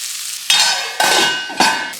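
Small onions with salt soften in a pan over a medium flame, a soft sizzle broken by three distinct scraping stirs of a spoon, close up and with no voices.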